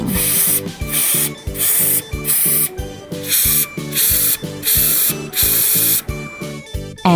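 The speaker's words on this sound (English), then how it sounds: "It's time to spray paint." Repeated bursts of aerosol spray hiss, about seven in a steady rhythm, with short pauses between them and music playing underneath.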